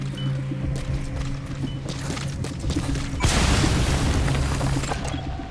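Explosions in the video game Metal Gear Solid 5: Phantom Pain, a deep boom bursting in about midway and rumbling on, over a background of game ambience with a sustained hum.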